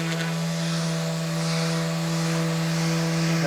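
A foam-backed 800 grit pad sands a vintage table by hand or machine, producing a steady, continuous buzzing hum with a fine rubbing hiss, close and unbroken throughout.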